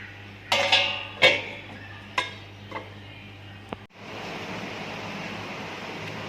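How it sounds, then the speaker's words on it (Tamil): A pot of tamarind fish curry on the stove gives a few sharp metallic clinks and knocks, then settles into a steady, even bubbling hiss as it comes to the boil. "குழம்பு நல்லா கொதிச்சு வந்துட்டு இருக்கு."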